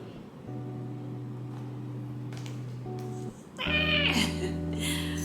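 A cat meows repeatedly in drawn-out, tonal cries, the last one louder and more strained, against a steady background hum.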